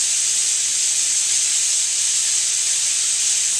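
Chopped berries hitting a hot pan of caramelizing sugar, a loud steady hiss and sizzle with no break.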